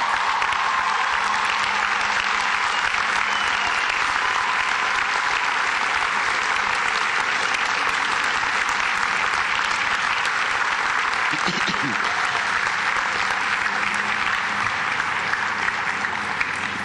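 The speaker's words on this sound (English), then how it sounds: "join me in thanking your loved ones with a resounding round of applause" A graduating class at a university commencement gives a long, loud, sustained round of applause for loved ones, a dense unbroken roar of clapping filling the space.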